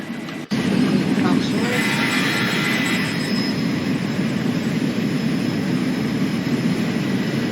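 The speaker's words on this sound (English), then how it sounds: "I'll just quickly turn the engine noises down so you can hear me better." Cockpit engine noise from a Zibo Boeing 737 in the X-Plane 11 flight simulator, a loud, steady jet roar and hum that begins abruptly after a short click and holds constant with a faint high whine.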